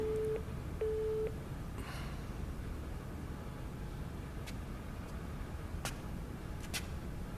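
A telephone busy signal during a phone call: two short, steady beeps at the start, then the line gives way to a constant low background rumble with faint traffic-like noise.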